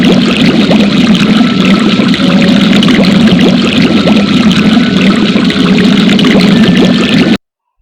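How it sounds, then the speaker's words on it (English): Continuous dense bubbling and churning of water, loud and steady throughout, like a pot at a rolling boil, with no voices. "And the sound is bubbling pot."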